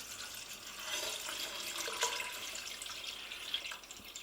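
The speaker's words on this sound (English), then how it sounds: "And then finally, the water. I'm pouring it down the side." Water poured down the inside wall of an Instant Pot onto spices and lentils for carrot lentil soup, a steady soft splashing stream lasting several seconds with no talk.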